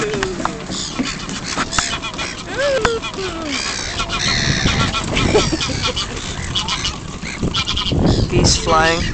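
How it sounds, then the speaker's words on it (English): Geese honk repeatedly overhead in flight at Castle Espie, a noisy chorus with the calls overlapping and fairly loud, with other bird sounds and voices mixed in. "Geese flying."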